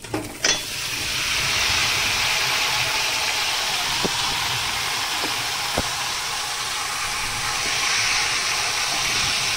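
Chicken pieces and potatoes fry in a hot kadai, a loud, steady, close sizzling hiss following a brief clatter at the start, broken only by a few small pops.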